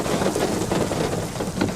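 Steady, loud rain pouring down outdoors over a field, a dense continuous hiss with no talking.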